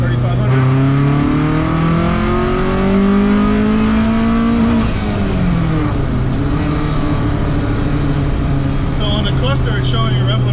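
A 1990s Honda Civic EJ2 swapped with a B18B1 engine accelerates hard on a test drive, its engine note climbing steadily through the gears, close and loud from inside the cabin, with a brief dip around mid-pull and continuous low rumble.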